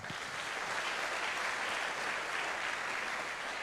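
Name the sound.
congregation applause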